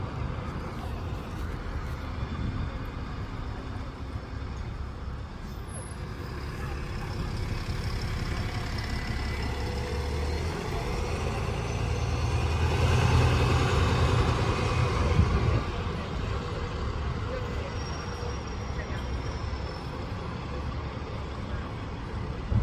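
An Alexander Enviro 400 MMC bus rumbles past with a low engine drone that swells toward the middle and fades, heard from a street-side spot amid steady traffic background.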